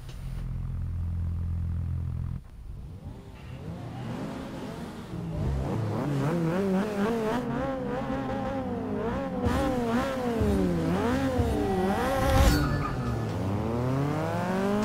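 A race car engine in Forza 6 starts with a low idle rumble, then revs hard and repeatedly through rising and falling pitch sweeps as it accelerates and shifts, loud and continuous.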